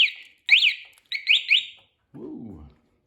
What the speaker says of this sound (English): Okay, we're going to set and arm the alarm.